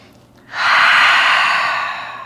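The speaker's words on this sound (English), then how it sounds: "Big breath in and out." A deep yoga breath, a quiet inhale followed by a long, loud airy exhale that swells and slowly fades, alone and close.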